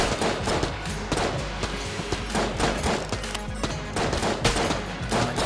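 Rapid turret fire in Enter the Gungeon rattles on steadily in a dense stream of sharp, repeated shots, loud and continuous across the whole stretch with game music beneath.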